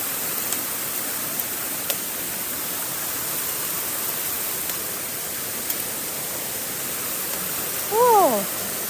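Wufengqi Waterfall in Jiaoxi pours down in a steady, loud, even rush of falling water over a rocky stream bed, with a brief voice rising near the end.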